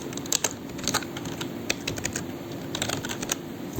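Code is typed on a computer keyboard in quick, uneven bursts of close, crisp key clicks over a low steady room hum.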